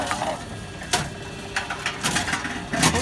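A Tomra T-70 Dual reverse vending machine's can compactor runs with grinding, clattering mechanical noise and repeated sharp crunching bursts as cans are crushed, steady and fairly close with no talking.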